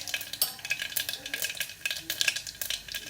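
Mustard seeds, cumin, asafoetida and fenugreek masala crackling in hot oil with a utensil scraping the pan, uneven bursts of spluttering and stirring, close and fairly loud, no voices.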